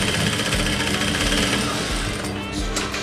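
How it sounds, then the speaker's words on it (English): A sewing machine stitches a seam on a blouse, a loud, close, steady mechanical whir running without a break throughout. "So you're just making a seam on the outside of what you've sewn before"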